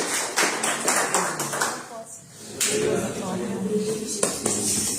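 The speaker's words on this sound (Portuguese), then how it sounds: "Dá aplauso ao Senhor, amém." Church congregation clapping in praise during a worship service, a loud stretch of applause with rhythmic claps and voices calling out over it, easing briefly before swelling again.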